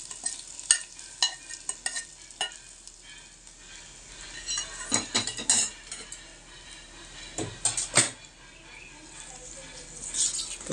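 Spoon stirring a wheat rava dish in a pan, giving repeated scraping and clinking strokes with soft sizzle in between, irregular in rhythm and close by.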